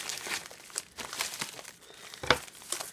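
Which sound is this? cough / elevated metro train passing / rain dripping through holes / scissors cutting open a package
scissors cutting open a package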